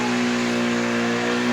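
Drift car with its engine revving hard during a burnout at an import car event, a loud, sustained droning roar held steady throughout with no letup.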